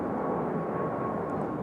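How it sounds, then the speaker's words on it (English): A JetBlue Airbus A220 takes off at Raleigh-Durham International, its engines giving a steady, loud broadband roar that holds level throughout with no voices. "Early rotation for the A220 here."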